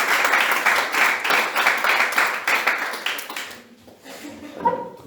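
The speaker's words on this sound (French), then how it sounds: "Combien nous pouvons applaudir au Seigneur pour acclamer sa gloire." Congregation applauding at an Easter Sunday church service, dense rhythmic clapping filling the room for several seconds before thinning out, with a voice starting to speak as it fades.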